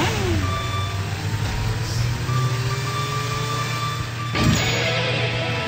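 Trucks in a browser video game rumble along in a steady low engine drone, with electronic tones and beeps layered on top and a short clattering hit near the end.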